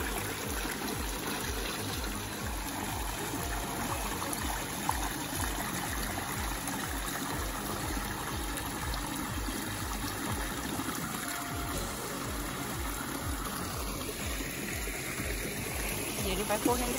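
Water from a natural spring in Japan flows and trickles steadily and close by for the whole stretch, a continuous babbling wash with faint voices in the background.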